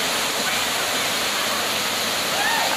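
La Mina Falls in El Yunque National Forest, Puerto Rico, a waterfall pouring into a swimming pool below, giving a steady, loud broadband roar with a voice faintly underneath.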